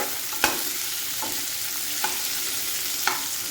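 Onions frying in a little oil over a high flame give a steady, close sizzling hiss, with a few sharp spatula taps and scrapes at intervals.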